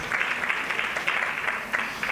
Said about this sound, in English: let's give Councillor Zondi a big round of applause.